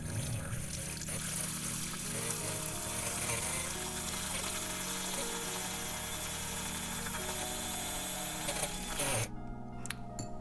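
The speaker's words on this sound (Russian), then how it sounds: "мы должны с вами взбить яйцо" Egg white is whisked for a sculpting face mask, giving a steady churning, whirring beat that runs for about nine seconds and then abruptly stops.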